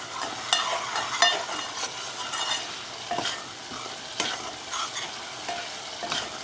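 Spice masala sizzles in a hot pan while a spoon stirs it, making continuous frying crackle broken by repeated scraping strokes, close up with no talking.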